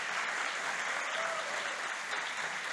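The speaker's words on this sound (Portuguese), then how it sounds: "todos os que estão aqui, aplaudissem esse casal em forma de honra" A church congregation applauds in steady, dense clapping throughout, even and sustained with no talking over it.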